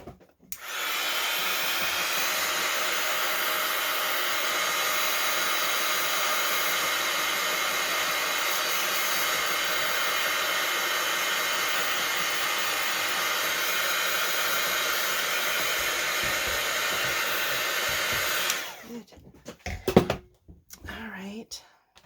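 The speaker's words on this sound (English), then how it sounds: "Okay, let's dry that off." A heat tool or hair dryer blows steadily at close range for about eighteen seconds, drying a mixed-media steampunk journal cover, then cuts off, leaving a few faint handling noises.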